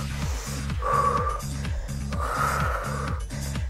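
Forceful exhales and hissing breaths repeat during an at-home glider workout with towels. They come in strong pulses over a steady, rhythmic low background beat.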